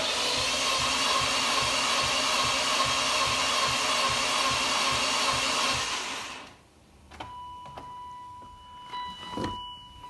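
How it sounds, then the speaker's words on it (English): A 25-year-old BMW engine with a blown head gasket cranks on the starter during a compression test, a steady loud rhythmic churning for about six seconds, then stops, leaving faint clicks and light handling noises. "So I'll try to get you guys zoomed in on the gauge there as we crank this."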